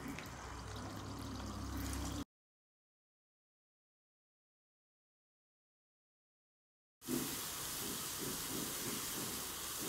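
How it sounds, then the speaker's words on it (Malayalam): Small banana balls sizzle one by one in hot oil, a steady hissing fry that cuts out into silence for several seconds before the bubbling resumes loud and close. "ചൂടായ ഓയിലിൽ ഓരോന്നായിട്ട് നമുക്ക് നന്നായി വറുത്തെടുക്കാം."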